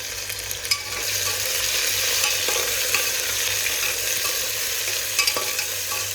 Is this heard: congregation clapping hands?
no